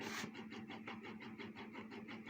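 Electric motor running at reduced power under Omron photoemitter step control, a steady mechanical hum with even rhythmic pulsing, several beats per second, close by with no voices.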